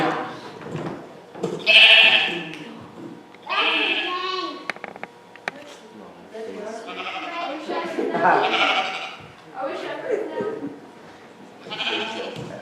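Children imitate sheep, bleating in a string of wavering "baa" calls during a church music lesson, several voices overlapping near and loud, with talk between the bleats.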